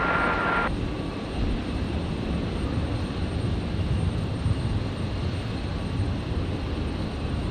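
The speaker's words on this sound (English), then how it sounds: "there's the Royal Flying Doctor service, which has returned back from Toowoomba. The Beach King Air 360." A Royal Flying Doctor Service Beechcraft King Air 360 returning from Toowoomba lands at Brisbane airport, a sustained broad engine and air rush, loud and fairly close, steady from start to end with no talk.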